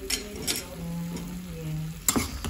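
Spoon scraping and stirring chicken afritada in a pan, soft scrapes and clinks over a low simmer, with a sharper clack near the end.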